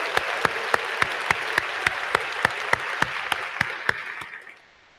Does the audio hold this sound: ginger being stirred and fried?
no